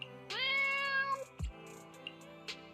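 A cat's meow rings out in the Zenless Zone Zero game, one clear drawn-out call followed by a few soft clicks and faint effects.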